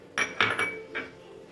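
A few sharp knocks of a pestle pounding cardamom, ajwain and cumin for an herbal kashayam: three or four close, ringing metallic strikes spaced irregularly, then a quick fade.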